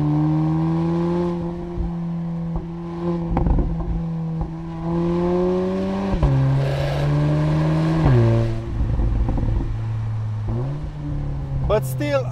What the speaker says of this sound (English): I know there's a few people out there that aren't really impressed of what an Akrapovic exhaust sounds like on a 4-cylinder